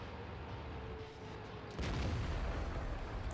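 Tank gunfire in World of Tanks: a low, distant rumble of battle noise, then a single heavy boom that thickens the sound and lingers as a sustained roar.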